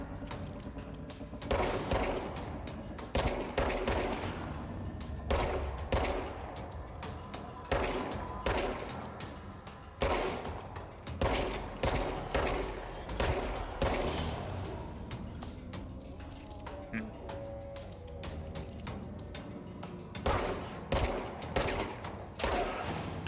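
Rapid bursts of gunfire from enemies in the video game Control, repeated volleys of sharp shots in clustered rhythmic patterns, fairly close and loud, with brief pauses between strings.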